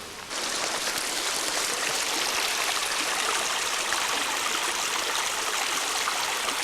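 Muddy water pouring from a 36-inch pipe into a ditch line feeding a pond, a steady broadband rushing roar that starts abruptly and holds constant and fairly close with no talking.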